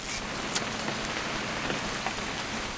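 Rain falls steadily in the video game What Remains of Edith Finch, a soft, even patter with occasional sharper drop hits, moderately quiet and continuous throughout with no talking over it.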